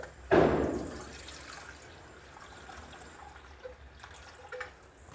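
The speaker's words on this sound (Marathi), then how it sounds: "पहिल्यांदा थोडंसं पाणी घालूया" Water poured into a ginger and spice mix in a home kitchen makes one short splash at the start, followed by faint scattered drips in a quiet room.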